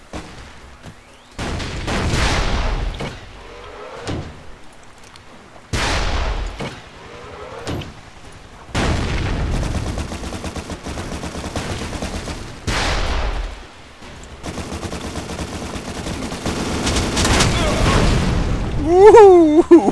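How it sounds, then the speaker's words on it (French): Heavy booming blasts, including rocket explosions, and sustained bursts of video game gunfire erupt repeatedly at close range, with loud explosions separated by brief lulls. "Wouhou, c'est de l'explosion."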